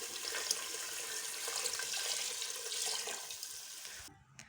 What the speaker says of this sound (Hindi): अभी हम इसमें 3 गिलास पानी ऐड करेंगे